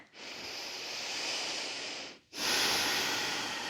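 Slow, deep breathing during a gentle hatha yoga flow, one long airy inhale followed after a short pause by a strong exhale, close and breathy with no speech.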